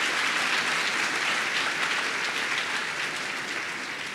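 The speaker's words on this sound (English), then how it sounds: "You can give that a round of applause." Steady, dense applause from the audience at an academic opening ceremony, even and sustained throughout, slowly tapering toward the end with no talk over it.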